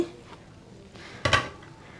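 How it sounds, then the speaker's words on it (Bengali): A lid comes off a pan of egg-and-bread pizza cooking on the stove, a quiet pause giving way to a brief metallic clatter and scrape, close and short. "এবার আমার ঢাকনাটা উঠিয়ে দেখি"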